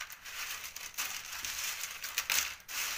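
Close, crisp crunching and crackling as brittle dried orange peel is handled and broken, irregular bursts of crinkling, no talk.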